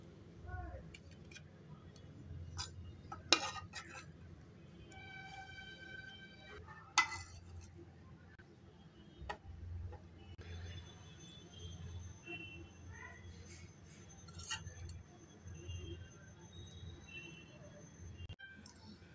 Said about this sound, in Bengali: এবার প্লেটের মধ্যে পরিবেশন করে নেব